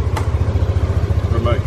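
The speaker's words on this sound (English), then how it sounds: "Alright, we're gonna get on the road. This scooter is so good." A scooter engine putters with a fast, even low-pitched pulse as it rides along a road in Bali, steady and close, with a brief voice over it near the end.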